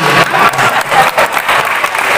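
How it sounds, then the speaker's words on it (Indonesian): Audience applause at an Indonesian community organization's inauguration ceremony for Forbi's new board, a brief burst of dense, close clapping from a crowd. "Tepuk tangan buat Forbi."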